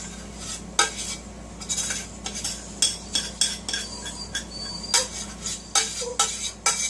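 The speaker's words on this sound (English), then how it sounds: "Let me stir it up some more." A spoon stirs keto cheese sauce for cauliflower mac and cheese in a pot, giving repeated clinking scrapes against the metal in an uneven rhythm over a steady low kitchen hum, close by and moderately loud.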